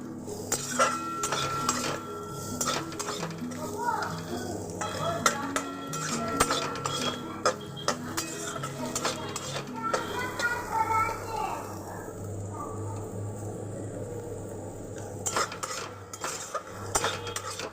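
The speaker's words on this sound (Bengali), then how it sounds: "আবারও একবার ঢাকনা খুলে দেখে নিতে হবে একবার নাড়াচাড়া করে নিতে হবে" Bitter gourd and potato fry stirred in a covered pan, with repeated metal clinks of a spatula against the pan and lid scraping and tapping in an uneven rhythm, close and moderately loud, with a steady low hum underneath.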